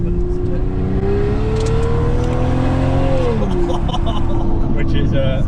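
A straight-piped BMW V12 exhaust, cat-back with the primary cats removed, holding a loud steady drone that rises briefly in pitch and then settles back, close and continuous with no talk.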